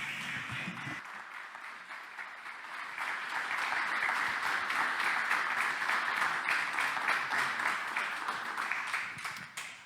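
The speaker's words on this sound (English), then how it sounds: "Thank you very much for the applause" Sustained applause from a large conference audience after a talk on migration, steady at first and swelling louder midway before easing slightly toward the end.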